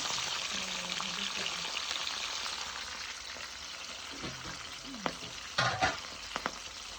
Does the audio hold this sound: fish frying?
yes